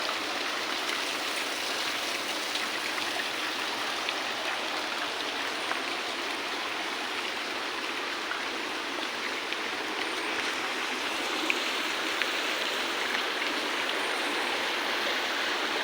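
A waterfall-fed stream in Quezon province rushes in a steady, dense wash of flowing water, constant and fairly close, with no voices.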